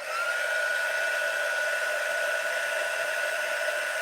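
A handheld dryer blows steadily and loudly at close range over a craft project, giving a constant whine with no pauses and no talk.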